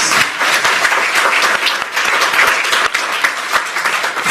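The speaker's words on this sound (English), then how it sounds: "I think she deserves a round of applause." An audience claps in sustained, dense applause, with many hands close and loud throughout and no pause in the sound.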